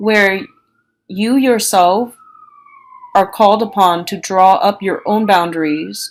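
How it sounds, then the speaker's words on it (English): A siren passes outside, a faint, wavering tone that stays in the background beneath someone talking in the foreground. "excuse the siren"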